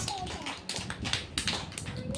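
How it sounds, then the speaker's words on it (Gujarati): Young children in a classroom clap for a classmate, a short burst of scattered hand claps in the room while an adult voice talks over them. "તાળીઓ પાડો બધાય ઉમેરાની."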